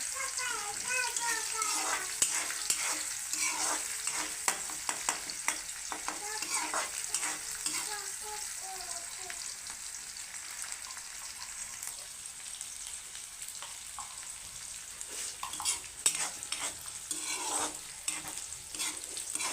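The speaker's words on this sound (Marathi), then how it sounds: "जिरं मोहरी कांदा टाकून घेऊया त्याला मस्त लाल होईपर्यंत परतून घ्यायचं" Chopped onion sautés with cumin and mustard seeds in a pan for a simple Marathi dal, giving a continuous close sizzle with frequent scraping stir strokes and occasional seed pops, while a voice talks over it at times.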